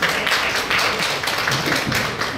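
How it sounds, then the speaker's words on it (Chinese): Audience applause welcomes a speaker at a hotel alliance ceremony between Kaohsiung universities and Chengyi Hotel, a dense, steady round of clapping with slight rhythmic surges. "掌声欢迎"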